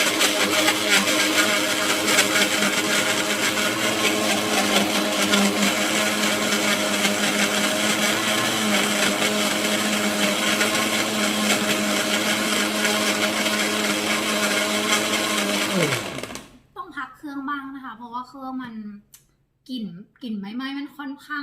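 A blender whirs steadily and loudly for about sixteen seconds while blending a mocha coffee smoothie, then cuts off abruptly, after which someone talks.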